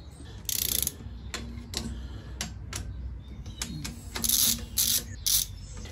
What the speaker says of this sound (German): jetzt sollen wir über Kreuz anziehen und mit 30 Newtonmeter vorspannen